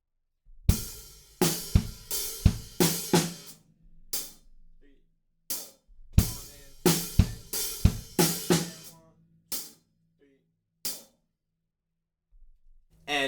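Drum kit playing the slow verse beat of a song, with quarter notes on slushy hi-hats and snare hits, played in two short close phrases separated by silence.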